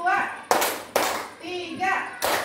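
Group hand clapping in a classroom counting game, three sharp broadband claps at spaced intervals with a teacher's voice speaking between them.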